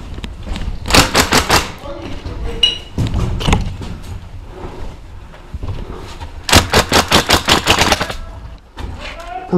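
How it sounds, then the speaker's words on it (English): A 1920s-style fully gas-powered Thompson airsoft submachine gun fires loud, rapid rattling bursts at close range, two long strings of shots with shorter bursts and pauses between them. "bringing out my 1920s fully gas powered Thompson submachine gun."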